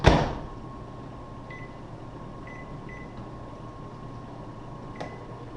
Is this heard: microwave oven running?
yes